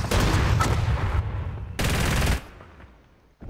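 Bursts of gunfire from the player's weapon in a gun game shooter, one long burst of rapid shots, a short pause, then a second burst that cuts off into quiet.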